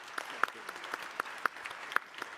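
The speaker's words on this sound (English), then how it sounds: "Look at my mother clapping." Sparse, scattered clapping from an audience at a forum event, a handful of separate claps spaced irregularly at a moderate level.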